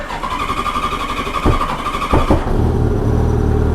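A 1986 Honda Goldwing GL1200 motorcycle engine idles with an even, pulsing throb, then blips briefly and settles into a lower, rougher running note, close and loud.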